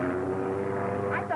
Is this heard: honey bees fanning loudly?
no